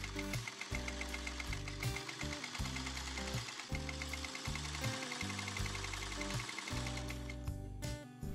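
A sewing machine stitching a bag made from bandanas, running in close, loud bursts of rapid mechanical chatter with short pauses between runs.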